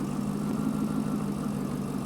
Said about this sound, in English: I'm gonna turn off the engine.